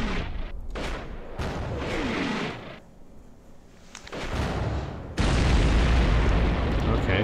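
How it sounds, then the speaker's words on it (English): Mortar explosions in the Combat Mission Black Sea war game, a run of heavy booms and rumbling blasts, loud and close, ending in a sustained roaring burst with no talk. "Saw an explosion over there as well."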